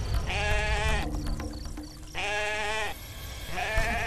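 A goat bleats three times in drawn-out, wavering cries, close and clear, separated by brief pauses filled with faint rustling.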